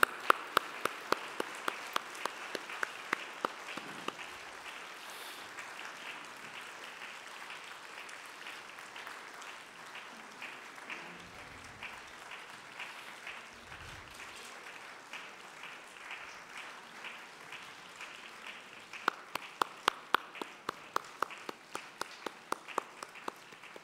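Church congregation applauding retiring members as they receive bouquets at a Sunday service, a long, even spatter of clapping with some sharper claps standing out near the start and the end, heard from a slight distance.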